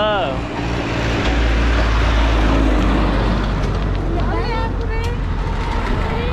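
A tractor engine rumbles loud and steady close by in Nepal's Terai lowlands, its low drone continuous throughout while a person talks over it.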